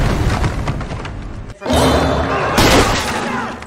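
Loud bursts of film gunfire as police shoot a werewolf woman crash in over a dense soundtrack, with a brief silence before a heavy volley and another sharp burst near the end.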